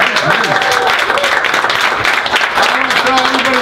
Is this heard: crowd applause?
yes